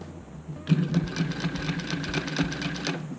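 A domestic sewing machine stitches a seam along the edge of a fabric face mask, starting after a brief pause and then running in a fast, even mechanical patter close by, with no talking.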